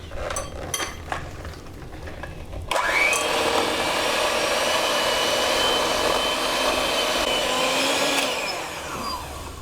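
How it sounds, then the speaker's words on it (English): Electric hand whisk beating cupcake batter in a bowl, a few clanks before the motor starts and then a loud continuous whir that holds steady for several seconds before winding down; no talking. "initially going to be mixing this for 1 minute with an electric hand whisk"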